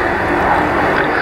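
Gloster Meteor NF11 jet aircraft in a gentle flying display at an air show, a loud continuous engine roar filling the whole moment without any break.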